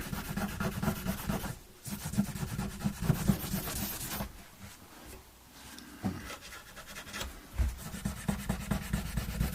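Ground-in dirt is scrubbed off a Squier Standard Telecaster with steady back-and-forth rubbing, close and continuous, with brief pauses between strokes.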